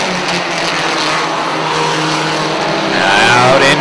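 Race cars roar around a short oval track during a racing event, engines droning loud and steady with a rising whine near the end as cars push through a turn; no one talks.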